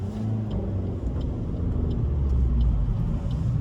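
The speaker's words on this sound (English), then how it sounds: "You've just heard me rev it up." Suzuki Swift Sport ZC32S engine revving up while following another car, a steady low rumbling drone that holds close and fairly loud throughout with no talking.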